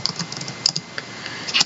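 Rapid, irregular keystrokes on a computer keyboard are captured close up while someone types notes, with light clicking taps and no talking.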